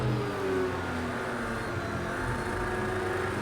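A Ferrari GT3 race car in Project CARS 2 drones at steady speed around Watkins Glen, a continuous mid-pitched engine hum with faint rising harmonics and no talk.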